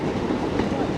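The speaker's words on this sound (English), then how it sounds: "It's the SI train, yes." Staten Island Railway train rolling past nearby in New York City, a loud, continuous rumble of wheels on the track filling the short moment.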